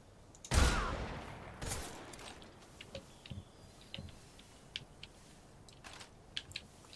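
Gunfire in Metal Gear Solid Delta: one loud, close shot followed by a second blast, then scattered lighter clicks and small distant pops over a low rumble.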